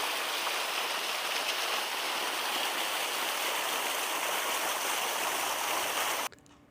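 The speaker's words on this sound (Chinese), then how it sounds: "现在我们走到了瀑布的边上" A waterfall on Vancouver Island roars steadily and loudly from close range, a dense, unbroken rush of falling water that cuts off abruptly near the end.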